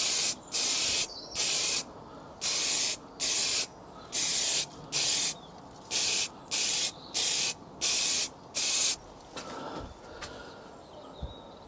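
Simoniz satin black spray paint sprayed onto motorcycle crash bars for a Triumph Explorer, a second coat laid on in about a dozen short, loud, evenly spaced hissing bursts, followed by quieter handling noises.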